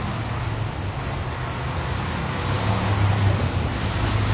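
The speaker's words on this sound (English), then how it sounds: "a red big old Mack truck just rolled by" A big old red Mack truck rolls past on a street, a steady, loud low rumble of engine and road noise that swells slightly as it goes by, with no voices over it.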